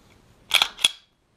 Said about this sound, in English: you have to keep racking the slide